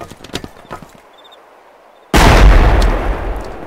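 Rocket launcher blast hitting a base in a video game: faint clicks and small sounds, a moment of near silence, then one sudden loud explosion with a heavy low rumble that slowly fades.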